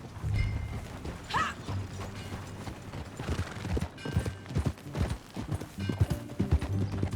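Hooves clip-clop in a steady rhythm as a horse is ridden on a ranch, close and clear, with mechanical creaks and rattles from tack mixed in and occasional background voices.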